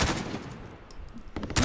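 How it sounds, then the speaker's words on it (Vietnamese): A sniper rifle fires in Call of Duty Warzone, loud sharp blasts opening and closing the moment, with broadband game gunfire and a few thin high tones between them. "Một viên bắn tỉa rồi"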